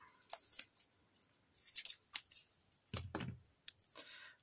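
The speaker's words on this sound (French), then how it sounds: "je maltraite mes ciseaux, c'est une catastrophe." Several quick scissor snips, close and crisp, in a short irregular burst followed by a pause and a few more cuts; no talking.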